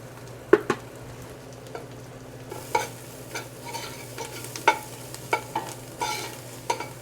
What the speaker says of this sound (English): When the onions get to this kind of color, I'm going to toast my turmeric in here